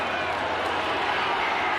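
Crowd at a 1994 rugby league match between Canberra and Illawarra cheering in a steady, dense roar that holds throughout, with commentary voices blended in.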